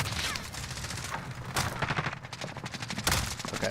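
Rapid bursts of automatic gunfire from a Call of Duty match crackle in dense volleys, with sharp louder shots near 1.6 and 3.1 seconds, fairly quiet overall and without speech.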